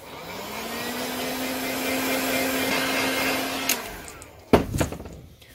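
A heat gun blows steadily with a rising whine while heat-setting Outlaw paint on a custom fishing lure, then cuts off, followed by a few close clunks and handling knocks.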